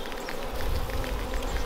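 Honeybees buzz densely around an opened beehive as a beekeeper lifts out a frame full of honey, a steady close drone with no talking.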